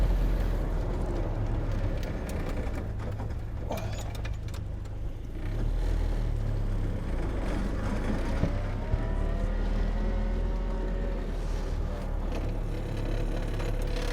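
A restored Series 1 Land Rover truck drives along, its engine droning steadily with gear changes and rising revs, close and loud, with no talking.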